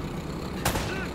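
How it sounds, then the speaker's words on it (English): A single sharp gunshot cracks out in the middle of a gunfight in the video game Uncharted, set against a steady background of game ambience, fairly close and loud. "You're in a gunfight now."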